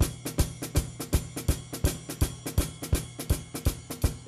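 A drum kit plays a groove with a single bass drum, giving a steady, evenly spaced kick-and-snare pulse with busy hi-hat over it, close and clear.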